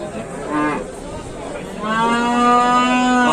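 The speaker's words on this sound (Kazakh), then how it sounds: "кірерушілері бұқалар." Bulls at the Jalal-Abad livestock market give loud, close, drawn-out moos, one short call followed by a longer, stronger bellow, over a steady hum of market noise.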